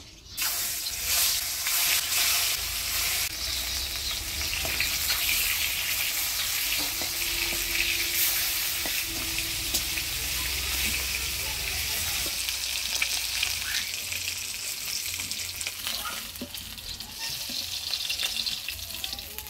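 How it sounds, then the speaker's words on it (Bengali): Aair fish fries in hot oil, a loud continuous sizzle and crackle that holds steady throughout with no voices over it. "প্রথমে আয়ের মাছটা ভেজে নিব।"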